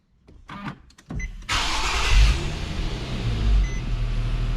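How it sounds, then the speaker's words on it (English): An Infiniti FX-series SUV engine starts with a short cranking burst, then settles into a steady, fairly loud idle hum, with no talk. "So I'm gonna start the car."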